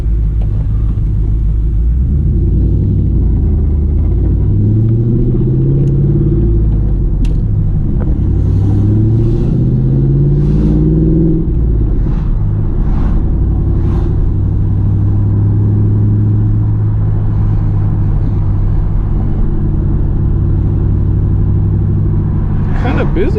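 A 2001 Pontiac Trans Am engine rumbles low and steady from inside the car while driving, with some rising revs midway, and someone talks over it.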